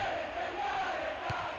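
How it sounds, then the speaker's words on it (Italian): A virtual stadium crowd of AC Milan supporters in the football video game PES 6 roars as a steady, dense wash of cheering, loud and continuous throughout with no speech. "I tifosi rossoneri si sentono."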